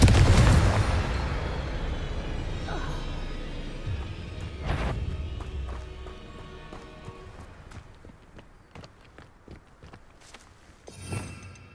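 A Confringo spell in the video game Hogwarts Legacy bursts in a loud, deep blast at the start that fades slowly, then a second thud, scattered clicks and a final rumble, with no talking.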